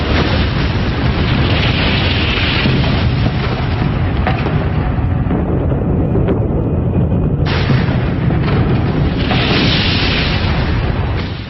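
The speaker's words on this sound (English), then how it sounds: "A fraction of a second later came a powerful shockwave which moved at the speed of sound." Atomic bomb blast and shockwave over Hiroshima, a massive sustained roaring rumble that fills the whole stretch, loud and dense, with surges and a dip in the middle before it swells again.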